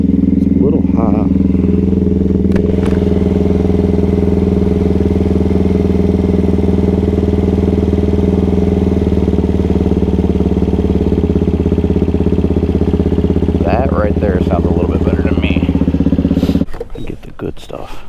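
A Suzuki DRZ400SM motorcycle with an FCR39 carburetor idles steadily and loudly up close, a constant throbbing engine note that holds for a long stretch before dropping off near the end; brief voices come through at the start and later on.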